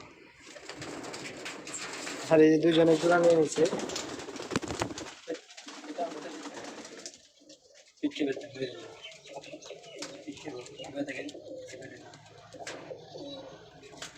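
Pigeons coo softly in a small cramped loft, a burst of throaty cooing near the start and fainter calls later, mostly under someone talking close by.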